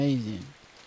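Rain patters steadily across the stage in the side-scrolling game Inside, a soft, even hiss that continues after a brief voice at the very start.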